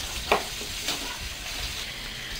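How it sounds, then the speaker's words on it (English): Oil sizzling and crackling steadily as food deep fries, a constant hiss with a couple of brief louder pops. "Looks like it's deep frying to me."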